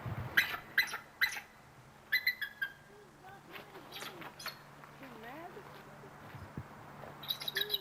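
Birds near Anchorage call in scattered chirps and thin whistles, with several sharp bursts early on and softer warbling calls in the middle, all fairly close.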